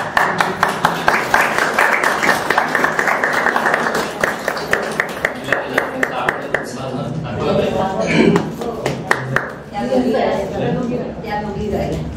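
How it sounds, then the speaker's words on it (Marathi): An audience of attendants applauds at a felicitation ceremony, giving a rhythmic run of hand claps that fades as a voice continues speaking over the hall. "उपस्थित असलेले सगळे सेवक सेविका यांनी टाळ्या वाजवल्या."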